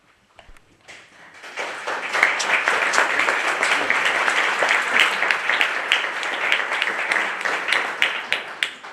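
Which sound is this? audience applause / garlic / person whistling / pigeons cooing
audience applause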